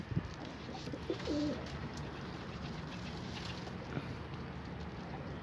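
Pigeons in a loft give soft, low cooing calls, faint and somewhat distant over a steady background hiss, with no one speaking.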